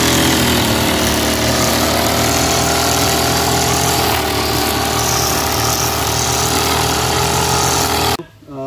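A small-engine farm machine in a Malvan village, pull-started like a rickshaw, runs loud and steady close by with a rough, rattling drone before cutting off abruptly near the end.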